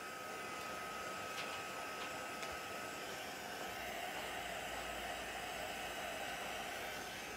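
A heat gun blows steadily onto watercolour paint on a scrapbook page, giving a constant, even rush of hot air from start to finish with no talking.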